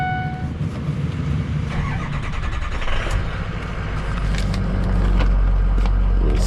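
A 2007 Ford F250 Lariat diesel 4x4 pickup with about 154,000 miles is started from inside the cab. Cranking leads into a deep, steady idle that swells louder near the end, with no talk.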